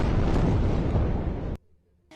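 Bombardment in Gaza produces a heavy, rumbling explosion roar that fills the air for about a second and a half before cutting off abruptly, leaving near silence and then a faint return of noise.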